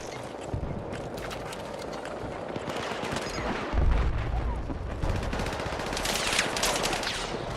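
AK-205 rifle fire in Battlefield 6, rapid automatic bursts and scattered shots rattling continuously over a busy battle din, with no pause across the stretch.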